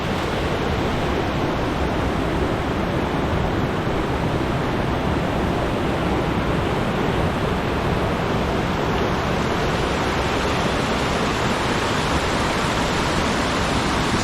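A mountain stream on an Alaska trail at Turnagain Arm rushes as a steady, loud wash of broadband noise that carries on unbroken and close.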